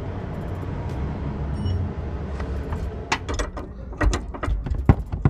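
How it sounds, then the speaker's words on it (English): Sharp ratchet and wrench clicks ring out while tightening a sway bar end link on a 2008 Scion xB, starting after a stretch of low background rumble and coming as a quick irregular series of close metallic ticks. "The rest of it needs to be done by the wrench."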